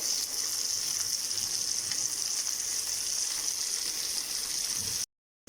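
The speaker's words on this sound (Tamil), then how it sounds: "இதை மீடியம் ஃப்ளேம்லேயே வச்சு ஃப்ரை பண்ணி எடுத்துக்கலாம்" Chicken frying in a pan over a medium flame, a steady close hiss of sizzling oil that holds even for about five seconds and then cuts off abruptly.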